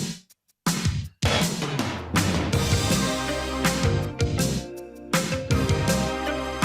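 Opening of a song from an album, played loud and full: after a brief pause, punchy drums and bass kick in with a dense, driving band mix and no talking.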